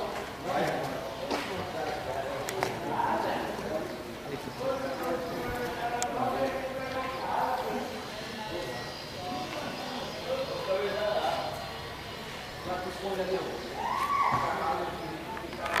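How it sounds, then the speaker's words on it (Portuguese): Horses clip-clop in a large herd at a government supply center in Brazil, steady hoof knocks under almost continuous talk, with an occasional whinny rising above. "Aqui uma grande quantidade de cavalos"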